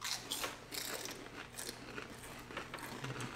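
Crunchy bites and chewing of the One Chip Challenge extra-hot tortilla chip, close and fairly loud, with repeated crisp crackles over a few seconds and no talking.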